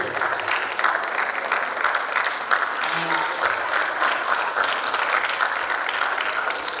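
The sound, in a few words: audience applause for volunteers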